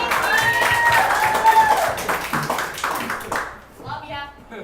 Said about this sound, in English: How about another round of applause for Lisa,